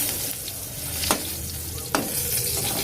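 Slices of eggplant fry in oil in a pan, giving a steady close sizzle. Two sharp scrapes of a utensil stand out above it, and nobody speaks.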